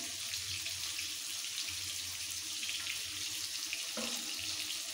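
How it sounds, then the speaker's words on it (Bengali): A little water runs from a tap into the pan of ginger and cumin for khichuri, making a soft, steady splashing flow that continues throughout without speech. "দিয়ে দিচ্ছি সামান্য একটু জল"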